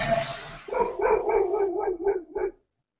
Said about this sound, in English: That's a pit bull, and he was just commenting on Badiou's In Praise of Love